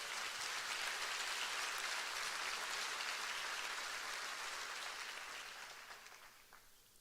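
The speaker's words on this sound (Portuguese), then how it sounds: "Pode aplaudir o Senhor." A church congregation applauds in a broad, even wash of clapping that holds steady for several seconds, then gradually fades away, sounding somewhat distant and soft.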